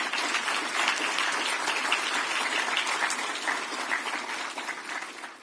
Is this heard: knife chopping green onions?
no